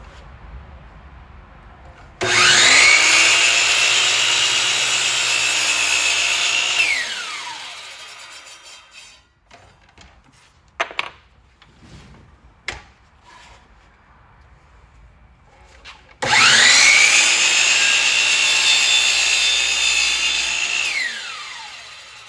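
A miter saw cutting tiny pieces of trim against a sub-fence: two loud, close cuts, each with the motor whining up, ripping through the wood and winding down, with quiet handling clicks between them.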